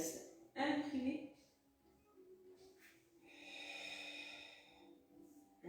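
Slow, controlled breaths during a Pilates exercise come as a sharp nasal inhale followed by a long, soft exhale, close and quiet, with brief faint voice sounds between them.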